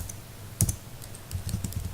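Fingers tapping out a project name on a computer keyboard, a short burst of quick, close keystrokes with a pause between clusters, fairly quiet and with no voices.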